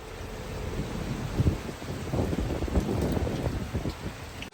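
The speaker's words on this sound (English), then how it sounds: "It rained hard, and with thunder not far away" Heavy rain with nearby thunder at sea aboard a sailboat, heard as a steady wash of rain and wind with low rumbling swells and gusty buffeting against the microphone.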